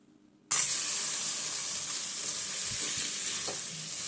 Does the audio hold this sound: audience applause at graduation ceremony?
no